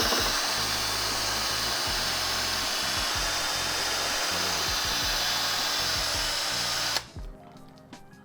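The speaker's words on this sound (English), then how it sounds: "I cannot recommend enough using a power drill" A power drill with a mixing attachment stirs grain in a beer mash, a loud continuous whirring motor with wavering pitch that cuts off abruptly near the end, leaving quiet room sound.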